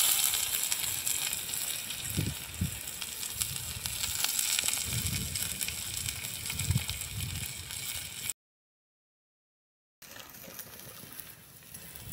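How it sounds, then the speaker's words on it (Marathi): Onion frying in a spoonful of oil in a pan, giving a faint, steady hiss and crackle that drops out briefly before returning. "आता अजून 1 चम्मच तेल टाकायचं आणि कांदा भाजून घ्यायचा आहे।"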